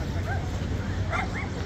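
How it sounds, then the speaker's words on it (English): Dogs barking and yipping at a distance near a seaside spot, a few short barks over steady outdoor crowd babble and background noise. "Now you can hear the dogs because we are very close to the pachor."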